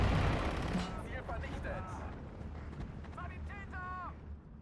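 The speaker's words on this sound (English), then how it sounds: "It's IG firing away from its gun pit." Infantry gun firing from a dug-in gun pit in Steel Division 2, with sharp booming reports and battle noise mixed under someone talking over the top, the shots blending into a steady wartime din.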